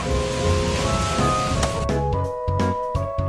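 Heavy rain pours down as a dense, steady roar under tonal music, then cuts out abruptly partway through, leaving the music with only brief bursts of noise.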